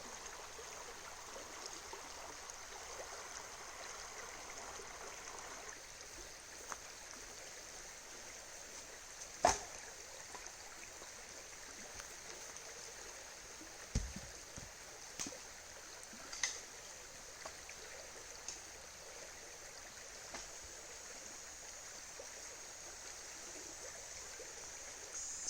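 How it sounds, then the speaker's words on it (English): Gentle river flowing beside an ATV campsite, a soft continuous wash of water at moderate distance, with occasional faint knocks and clicks over it. "right next to this beautiful river."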